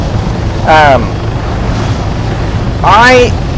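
A helicopter in the military game Arma 3 holds a steady, loud rotor and engine drone throughout, broken by two brief rising tonal bursts over the top.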